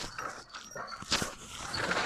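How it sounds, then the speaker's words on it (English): A dog chasing birds nearby, with scattered barks, whimpers and scrabbling footsteps over about two seconds, fairly close and moderately loud. "it's the dog chasing the birds"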